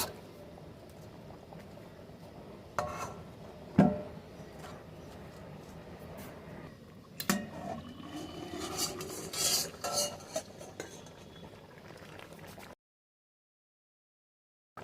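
Chicken is stirred and scraped in a pan while it sautés over medium-high heat for coriander chicken. Irregular utensil knocks and scraping rubs sound close, with no talking.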